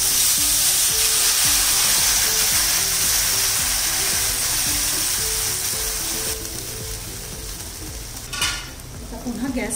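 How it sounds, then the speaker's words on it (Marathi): Cumin and cloves sizzle steadily in hot oil in a pan while a utensil stirs them with a rhythmic scraping. A close, continuous frying hiss runs throughout, and a louder clatter comes near the end. "सर्वात शेवटी थोडंसं जिरं घालायचं आणि व्यवस्थित परतून घेऊया"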